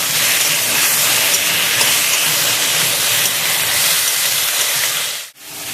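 Shrimp, peeled and rinsed in cold water, frying in a pan for a Bengali prawn curry with potato, pointed gourd and taro: a loud, steady, broadband hiss and sizzle running throughout, briefly dipping near the end.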